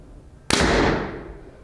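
A single arrow shot from a Prime CT5 compound bow gives one sharp, close snap, followed by a short decaying rush of sound that fades within a second.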